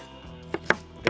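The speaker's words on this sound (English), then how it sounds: "I'm gonna cut up a few veggies to go in the fry pan" A knife chops red onion and red capsicum on a board, three sharp close taps in quick succession over a faint background hum.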